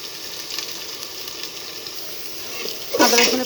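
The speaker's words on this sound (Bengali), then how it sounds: "আদা রসুনের পেস্টটা ভাজা ভাজা হয়ে আসছে" Ginger garlic paste frying in oil after browned onions, a faint steady sizzle that swells into a louder burst of crackling near the end, heard close.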